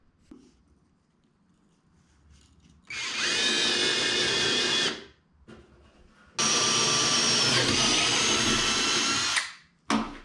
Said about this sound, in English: stuck it through each one of these holes to mark where I need to drill